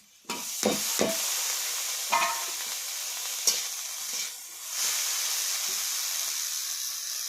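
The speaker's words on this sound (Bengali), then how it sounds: "সিদ্ধ করে রাখা মোচা দিয়ে দেবো।" Boiled banana flower drops into a hot pan with chopped eggplant and gets stirred: a few clattering scrapes at first, then a steady hiss of steam and frying carrying on quietly and evenly.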